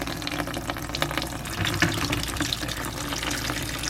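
Water being pumped out through the cooling line of a Sea Ray 480 Cruisair air conditioning system clogged with mussels, a steady loud rushing gush that runs continuously throughout.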